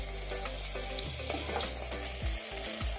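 Onions hit a hot pan and sizzle in a close, steady frying hiss with a little stirring and scraping, continuous over a low background hum.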